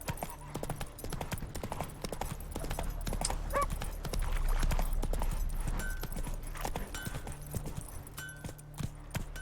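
Horse hooves gallop in steady, rapid clip-clop beats in the video game Witcher 3, moderately loud over faint ambient game sounds with no talking.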